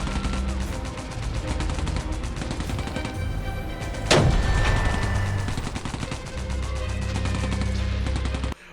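Musket, flintlock and cannon fire rattle through a modded WorldBox battle as a dense, continuous crackle of small shots, with one heavy blast cutting through at the midpoint before the firing carries on.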